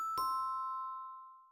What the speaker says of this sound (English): I'll find our other sound effect, which is just like kind of a doorbell dinging